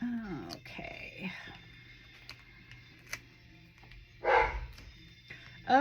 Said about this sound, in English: Oh, and there goes the dogs,